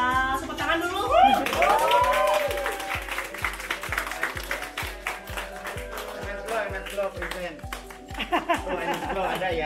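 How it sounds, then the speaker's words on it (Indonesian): An audience applauds after a virtual fashion show with steady, rhythmic clapping, while laughter and chatter carry over the top of it. "Ya, tepuk tangan dulu."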